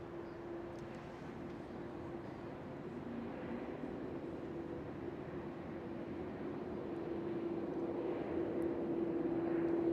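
A Delta Airlines airplane landing with a long wheelie at Schiphol Airport, heard as a steady distant jet roar that swells gradually louder, with a sustained droning tone throughout.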